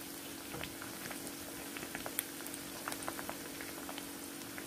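Prawns for prawn 65 fry in hot oil with a steady, dense crackle and scattered sharp pops, heard close and continuous with no talking.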